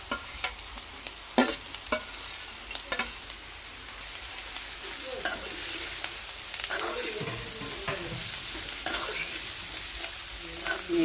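Sliced bitter gourd sizzles in a pan with turmeric while a spoon stirs it, giving scraping strokes and clicks against the metal over a continuous frying hiss; no one speaks.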